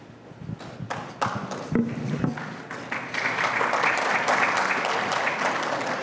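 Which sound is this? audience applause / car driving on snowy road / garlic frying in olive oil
audience applause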